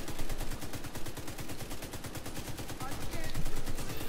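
Rapid automatic gunfire in the video game The Division 2, a dense continuous burst of shots that runs the whole time, with voices faintly under it.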